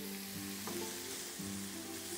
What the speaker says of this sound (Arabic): هشوح برضو الفلفل عشان الفاهيتا تاخد